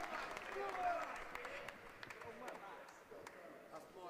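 Crowd at a darts match at the Solent sport festival applauding and cheering, a sustained wash of clapping and shouts heard at a distance, fairly faint, with scattered sharper claps.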